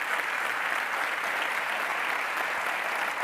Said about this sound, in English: Please join me in an applause for Fabrizio on this